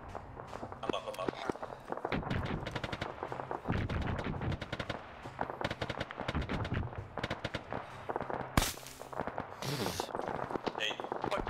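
Gunfire in an Arma 3 multiplayer infantry battle, rapid automatic bursts and single shots echoing near and far, with footsteps and players talking over the shooting throughout.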